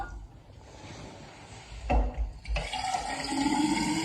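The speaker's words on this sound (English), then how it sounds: "We're going to put 500 ml of water in each," Cold water poured into electric kettles, one of them a newer stainless steel model, ahead of a boil test; a close, steady trickling pour builds and fills after a brief clunk, with no talk.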